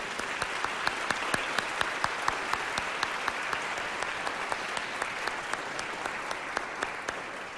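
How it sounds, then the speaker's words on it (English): Steady, dense applause from a concert audience at a university band performance, with many hands clapping continuously at even loudness and a few sharper claps standing out throughout. "Let's give Brennan another round of applause"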